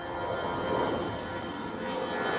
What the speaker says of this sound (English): I saw it was a 737 and it's coming from the eastern runway, runway 22